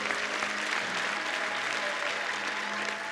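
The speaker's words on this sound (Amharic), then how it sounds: "አጨብጭቡ ለጌታ።" A church congregation claps together in a dense, steady burst of applause that carries on evenly without a break.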